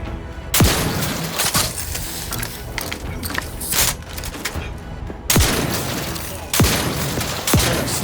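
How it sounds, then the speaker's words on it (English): Shotgun blasts in the video game The Outer Worlds 2, a series of loud sharp bangs spaced a second or more apart, each with a short booming tail, over continuous game background noise. "Snipe these guys with a shotgun."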